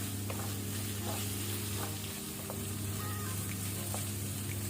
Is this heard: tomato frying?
yes